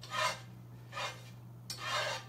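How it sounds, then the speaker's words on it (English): A utensil scrapes up bacon bits in a pan, with three short quiet rasping strokes spaced apart over a low steady background hum. "just scrape your bacon bits up"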